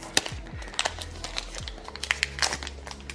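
A Pokémon Évolution Céleste booster pack wrapper is pulled open: a quick series of sharp, close plastic crinkles and small tearing crackles, several bursts in about three seconds, with no talking.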